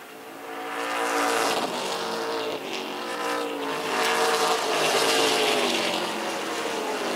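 Several race cars lapping Wiscasset Speedway, a steady loud drone of engines at high revs with overlapping tones rising and falling as cars pass, continuous throughout with no talk.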